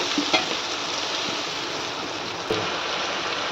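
Spice paste for khichuri sizzling and being stirred in a pan gives a steady close frying hiss, with a couple of faint scraping knocks from the spoon.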